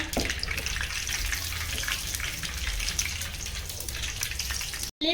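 Chili bajji, cut mirchi fritters, sizzle in hot oil, a dense steady crackling hiss with small pops that holds loud and close, broken by a brief cut near the end; no talking.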